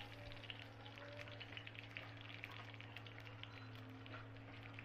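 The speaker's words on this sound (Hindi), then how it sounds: "हुण मैं कढ़ाई विच थोड़ा सरों दा तेल पा के 2 तेज पत्ते पाए आ।" Two bay leaves and a few spices fry in mustard oil in a kadai, giving a faint, continuous crackling sizzle with tiny pops, heard alone without speech.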